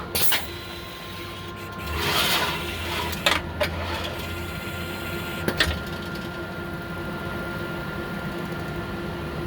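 Steady machine hum with a constant tone, punctuated by a few sharp mechanical clicks and a brief rising whoosh as a DEK Horizon 01iX screen printer cleans its stencil.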